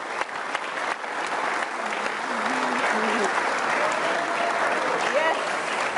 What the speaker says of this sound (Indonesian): Kita tepuk tangan dong Kak Okto.